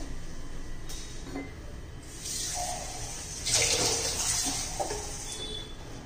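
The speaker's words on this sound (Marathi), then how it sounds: "थोडंसं मी 2 चमचे पाणी घालतीये." Water trickles and splashes as a couple of spoonfuls are poured into a dough mixture of stale millet bhakri, a soft, steady, close running sound with a brighter surge midway and no talking.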